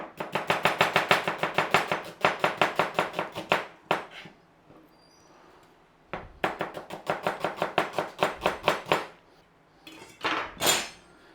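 A knife slices onions finely on a board, with fast, crisp repeated chops in two bursts separated by a quiet pause, close and loud.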